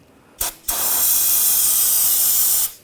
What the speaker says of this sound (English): You can clean up any mess with a little brake parts cleaner.